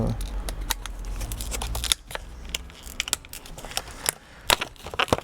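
A plastic blister pack fastened with staples is being unpacked by hand, giving irregular sharp crackles, snaps and crinkles close by, alongside some talk.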